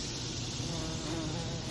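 Bees buzzing around plants in a raised-bed vegetable garden on a summer morning, a steady, dense insect drone that holds evenly and close throughout, with no voices.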